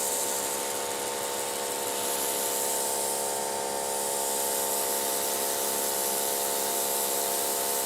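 A Greenworks 3000 PSI electric pressure washer sprays through a turbo nozzle, giving a loud, steady hiss with a constant motor whine underneath, running without a break from start to end.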